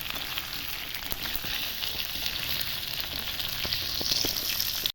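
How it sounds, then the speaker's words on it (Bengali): Bell peppers and onion fry in a pan for a crispy chilli baby corn dish, giving a steady, close crackling hiss with scattered faint stirring clicks throughout, and no one speaking. "এবার এগুলো আমি একটু নাড়াচাড়া করে মিশিয়ে দিচ্ছি।"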